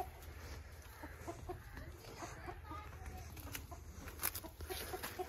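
Hens and a rooster clucking in a rural village yard, with irregular close clucks and squawks over a low rumbling background; faint voices are present.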